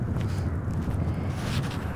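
A gust of wind buffets the microphone outdoors on a walking route through a small Utah town, a steady low rumble and roar with no gaps.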